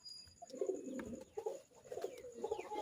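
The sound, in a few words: pigeons cooing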